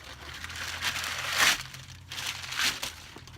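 A plastic bag crinkles close up during a front disc brake job on a Dodge Grand Caravan, in two rustling bursts with a short pause between them and no talk over them.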